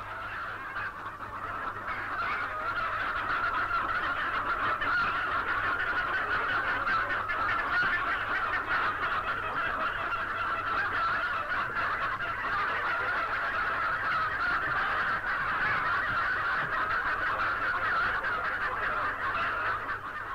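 A large flock of English-breed chickens on a 1966 state farm near Gorodishche, Volgograd region, makes a dense, continuous clamor of clucking and honking calls that holds steady throughout, with no talk.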